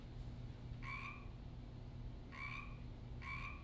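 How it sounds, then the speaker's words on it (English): Recorded frog croaks played through speakers in an audio installation, three evenly spaced bursts of ringing croaks over a low steady hum, faint and distant. "The other frog is out of both speakers"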